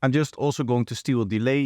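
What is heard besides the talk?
None of the usual background noises is heard.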